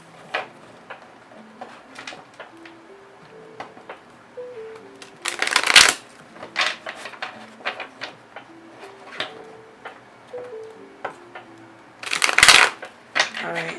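Tarot cards shuffled by hand in rustling riffles and quick flurries, with two louder bursts of shuffling, while soft melodic music plays quietly underneath.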